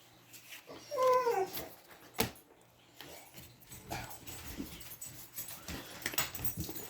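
Puppies indoors give a short high whine or yelp near the start, followed by a sharp bump, then scratchy pattering and shuffling of paws across the room.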